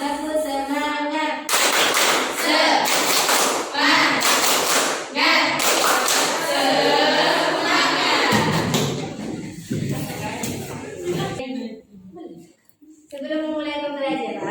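A class at a vocational school claps along to a counting chant, with bursts of loud, rapid group clapping alternating with voices chanting, ending in a short pause and more talk.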